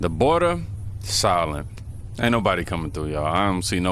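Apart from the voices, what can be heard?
No distinct noise like a dog, phone or traffic.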